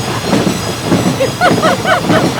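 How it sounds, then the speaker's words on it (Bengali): Train sound effect in a horror audio drama: a loud, close, rumbling run of rhythmic wheel clatter with thin squeals rising over the roar. "আর ট্রেন ছুটে চলার শব্দ"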